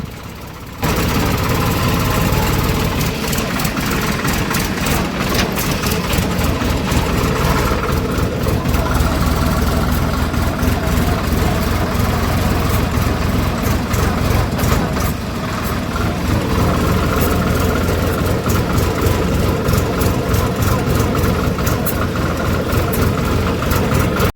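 A tractor engine idles and runs steadily on a farm during a maize harvest day, a continuous loud low rumble with knocking texture, close by, with faint voices in the background.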